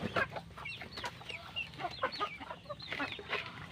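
Hungry chickens clucking steadily at close range, several birds overlapping in short repeated calls with scattered higher squawks and chirps, continuous over a faint low background.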